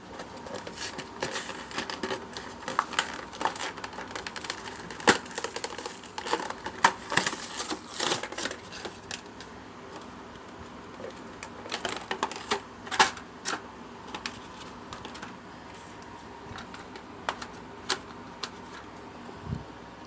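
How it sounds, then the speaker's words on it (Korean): Plastic packaging of a Mecard Mechanimal toy rustles and tears as it is opened, a busy run of crinkles, snaps and crackles with louder bursts early on, close by and with no talk. "초코가 테이밍하는 메카니멀 벙코 한번 뜯어볼게요"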